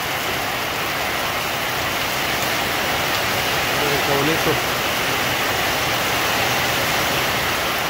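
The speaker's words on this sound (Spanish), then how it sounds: "ya está lloviendo" Heavy rain pours steadily on a Saturday afternoon, a dense, constant hiss close to the microphone throughout, with a brief spoken remark heard under it midway.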